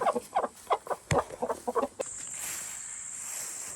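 Chickens and a rooster on a Kentucky farm cluck in a quick series of close, choppy calls, followed by a steadier hissing wash of background noise as the clucking stops.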